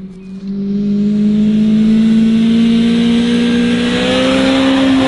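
A car engine with cola in the oil revs hard and loud, a sustained rising roar with climbing tones that sounds almost like a race car, close and alone after a brief start.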